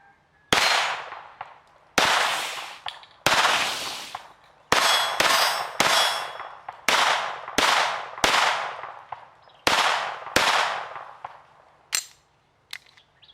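A Smith & Wesson SW22 Victory .22 pistol fires about ten sharp, loud shots at cans and plastic bottles outdoors, spaced roughly a second apart, each cracking and ringing out briefly.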